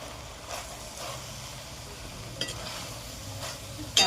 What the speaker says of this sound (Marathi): व्यवस्थित परतून घ्यायचे भाजी